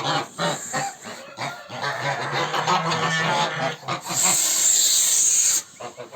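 A flock of geese honking loudly and repeatedly close by on a farm with newly hatched goslings, overlapping calls with a hissy burst near the end.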